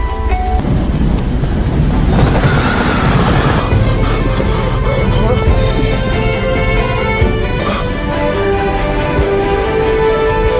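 A loud, continuous rumble of a train dominates, with grinding wheels and high metallic squeals building over ten seconds; no voices.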